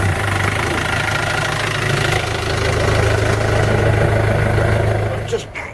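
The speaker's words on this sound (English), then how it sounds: "diesel engine installed in a 2001 Sagar Mini Luxe" A 2015 diesel engine, fitted as a replacement in a 2001 Sagar Mini Luxe boat and started from stone cold, runs at a steady, loud, close idle with a low rumbling knock, ending in a brief clatter.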